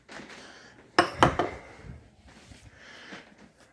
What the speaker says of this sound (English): then we grab our bowl so we can scramble our egg